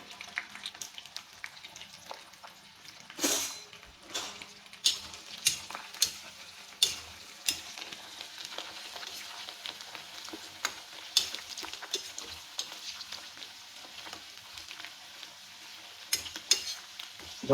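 Herbs and betel leaves fry in oil to make herbal hair oil, giving a soft, constant sizzle close by, broken by sharp clinks and scrapes of stirring.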